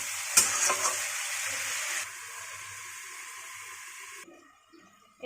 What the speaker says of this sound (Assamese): ইয়াতে মই আলুখিনি দি দিছোঁ। অলপমান লাৰি দিম।